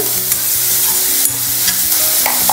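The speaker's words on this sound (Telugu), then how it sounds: "ఇవన్నీ కూడా వేయించుకోవాలి, ఒకసారి కలుపుకోవాలి బాగా" Chopped capsicum, mixed vegetables and fresh coriander are stirred while frying in a pan for paneer uthappam, giving a loud continuous sizzle with repeated scraping strokes of the spoon against the pan.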